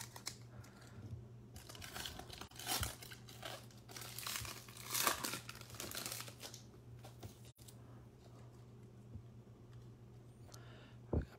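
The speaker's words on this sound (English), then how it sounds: "these are tough to open, so I'm just gonna use scissors." Crinkly plastic rustling and short snipping, crackling sounds from scissors cutting open baseball card pack wrappers, close and fairly quiet, with a steady low hum underneath.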